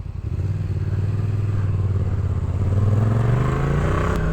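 Motorcycle riding through town, a steady loud engine drone with low harmonic rumble that rises slightly in pitch and volume near the end as the bike accelerates, with wind and road noise throughout and no talking.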